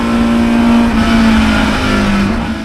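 A roaring 800 horsepower NASCAR engine pulls hard on track at Lime Rock Park, its loud, steady, slightly rising drone filling the whole stretch up close, with no talk.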